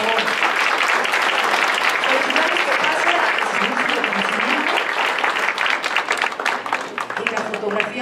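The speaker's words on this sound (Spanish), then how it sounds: "Un aplauso, por favor." Audience applause for a student award winner at a marketing contest prize ceremony, a dense steady wash of clapping that runs the whole stretch, with some voices talking underneath.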